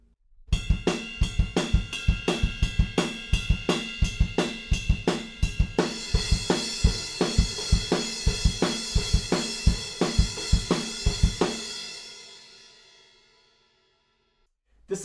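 Drum kit playing steady driving kick and snare hits with a crash cymbal pattern switching to a washier cymbal wash midway, loud and close, ending in a ringing decay.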